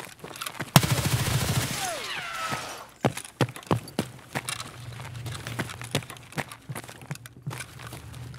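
Shotgun fire in the Escape from Tarkov video game: a sharp close blast followed by a string of quicker, lighter pops and clicks, with a cat meowing near the start.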